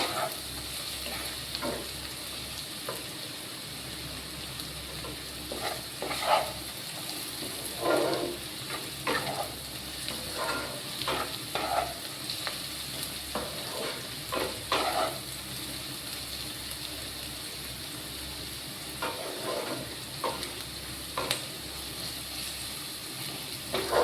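Potatoes fry in oil in a pan, a continuous close sizzle broken by repeated scraping and clattering as a utensil stirs them, with no voices for about twenty-four seconds.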